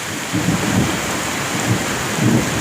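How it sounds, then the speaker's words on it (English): Thunder rumbles in several low swells through a steady roar of heavy rain on a flooded street, moderately loud with no voices. "Yeah, the thunder coming now."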